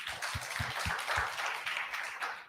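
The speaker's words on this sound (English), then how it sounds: "a round of applause for him" Applause at a 2020 arts-and-activism launch event in Kenya, a short burst of clapping from a small group, fairly close and uneven, fading slightly at the end.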